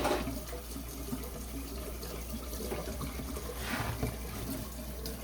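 Steady running water from a tap splashes into a sink while dyed gray Gotland wool is rinsed, a continuous close hiss with faint sloshing and no voices.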